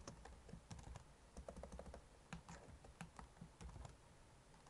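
Steady, close typing on a computer keyboard while entering Python code, a dense, quick patter of key clicks throughout, quiet overall and with no speech.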